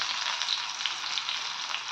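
Half an onion sautéing in a pan for a mango-dates chutney, a steady close sizzle and crackle of frying that holds evenly throughout with no voices.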